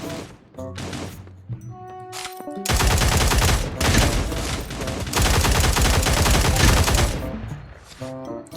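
Rapid automatic gunfire in the video game Cyber Hunter, dense and loud, in long sustained bursts with short pauses, alongside electronic game sounds and musical tones.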